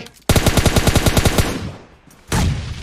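A rapid burst of automatic gunfire in PUBG Mobile rattles off about a dozen quick shots from a vehicle, fades into a brief lull, then another loud blast erupts.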